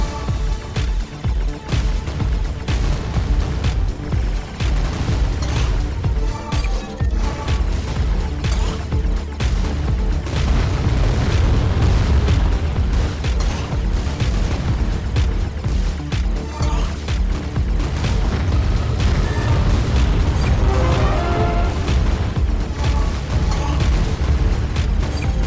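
Dense, continuous booms and bursts of missile explosions fill a hectic shmup stage in CounterAttack: Uprising, loud and relentless, layered over a driving game soundtrack.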